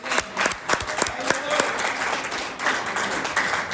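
A Sunday church congregation breaks into lively applause, dense overlapping clapping from a crowd with voices mixed in underneath.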